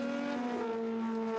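Historic Formula 2 single-seaters, including a 1600cc Brabham BT30, turning into Stowe Corner: a loud, sustained high engine whine with pitch shifting as cars brake and corner, close and dominant.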